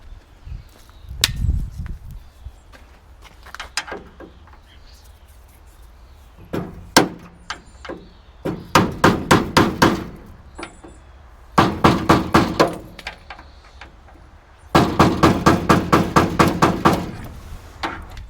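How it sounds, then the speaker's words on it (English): A hammer taps a screwdriver to straighten the window tracks on a classic car, sounding as sharp metallic taps. Isolated hits come first, then quick bursts of several rapid taps, close and fairly loud with quiet gaps between. "I'm just going to take a screwdriver and my hammer and just tap them back in just ever so slightly so they're straight."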